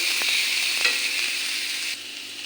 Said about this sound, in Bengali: এখন বিন আর গাজরটা ভালো করে ভাজা ভাজা করে নিই